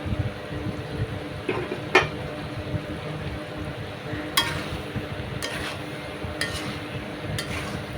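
Dal and raw jackfruit sautéed together in a pan make a low continuous sizzle, with a few sharp scrapes and clinks of the spoon against the pan.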